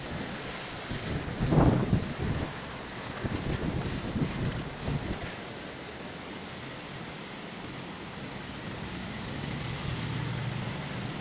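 Rushing floodwater from a strong current in Gonzaga after heavy rain, a steady roar mixed with wind buffeting the microphone, louder gusts early on then a constant flow.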